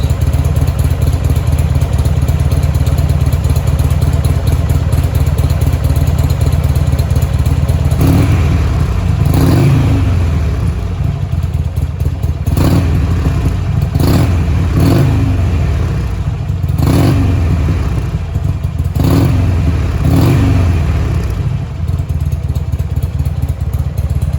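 A Buell XB9R Firebolt motorcycle with a battery problem and a check-engine light hums steadily at first, then its engine blips through a series of loud, close revs spaced a couple of seconds apart.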